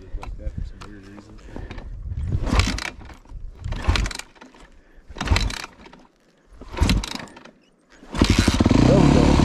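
A Yamaha YZ250F dirt bike engine running, heard in several bursts of revving between pauses, fairly close, with people talking in between.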